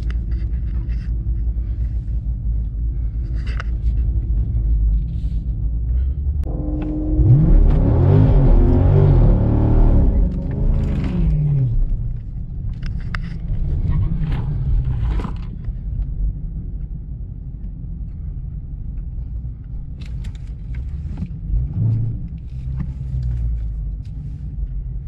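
A Dodge Challenger Hellcat and a 2019 Charger Scatpack rumble at a drag race, a steady low idle rising into a loud revving surge for several seconds, then dropping back to a throbbing rumble, with no talking.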